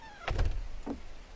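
A door in an online survival game opens and shuts with a low thud and a brief sliding scrape, then a softer second knock, close and alone without any talking.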